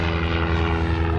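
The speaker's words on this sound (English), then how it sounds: "Cessna taking off." Cessna light aircraft taking off at Lelystad Airport, a loud steady propeller engine drone holding throughout the brief moment with no voices.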